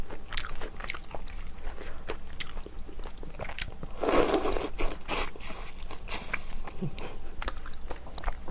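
Saeukkang shrimp crackers are eaten close to the mic with sharp, repeated crunching bites and chewing, and a louder burst of crackling crunches comes partway through.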